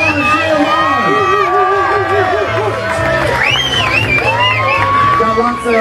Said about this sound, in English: Cheer them on, cheer them on